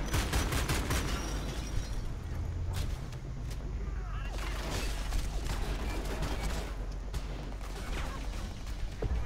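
Repeated gunfire and heavy shots aimed at tanks in Homefront: The Revolution form a continuous, busy fusillade of sharp cracks and mechanical rattling, with voices talking over it.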